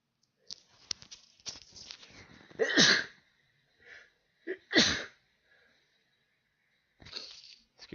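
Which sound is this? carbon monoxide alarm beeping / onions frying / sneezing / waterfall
sneezing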